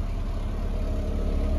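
A car engine idles in a garage, a low steady rumble, close and continuous, with no other sounds over it.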